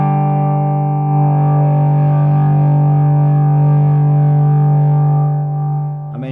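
Loud overdriven electric guitar through a Burman Pro 501 hand-wired amp into a 4x12 cabinet, one thick chord held and sustaining for about six seconds, close and alone before a brief scrape at the end.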